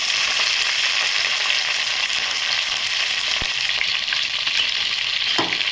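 Onions and green chillies frying in a pan for tomato curry, a dense continuous close sizzle with occasional scraping as they are stirred.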